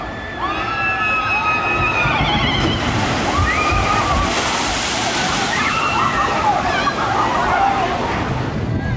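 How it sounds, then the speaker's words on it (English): Water at an amusement park water ride rushes and splashes continuously, a loud, steady churning wash nearby, with voices and shrieks from people mixed in over it. "I'm really hoping I'm not going to get wet standing here filming this water ride."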